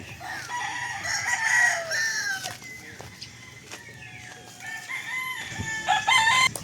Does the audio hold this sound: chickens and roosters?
yes